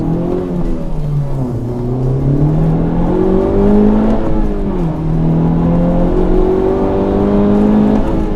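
A Honda Civic Type R hot hatch drives hard along a back road, its engine note rising and falling steadily through the gears, loud and close throughout with no talk.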